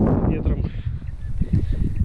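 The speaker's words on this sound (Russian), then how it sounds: "Ветер, не знаю, будет слышно." Low, blustery wind rumbles against the microphone throughout, outdoors during metal-detecting for coins, with a person talking over it.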